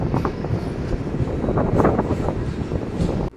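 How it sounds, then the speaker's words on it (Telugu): Simhadri Express train pulling into Palakollu station platform, a steady broad rumble of wheels and carriages with wind noise, loud and continuous before cutting off abruptly. "మన ట్రైన్ వచ్చేసి ప్లాట్ఫామ్ నెంబర్ 1 మీదకి అయితే వచ్చిందండి."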